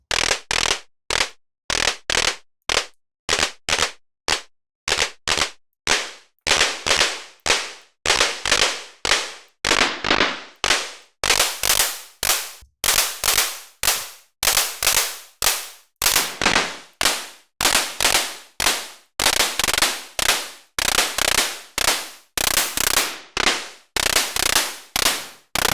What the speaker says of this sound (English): You can make some sort of clappy sounds.